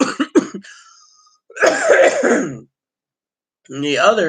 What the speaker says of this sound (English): my dry cough is because I don't have tobacco right now